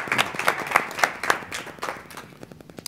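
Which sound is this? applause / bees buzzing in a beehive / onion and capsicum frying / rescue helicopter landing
applause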